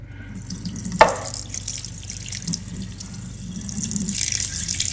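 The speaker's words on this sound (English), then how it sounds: "Okay, now I'm gonna dump this water." Rice rinse water sloshes and streams steadily out of a pot into a kitchen sink, with a brief metallic clunk near the start and continuous splashing throughout.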